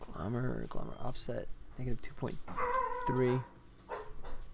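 A dog in the room gives a few faint barks and whimpers, mixed in with a person talking close by.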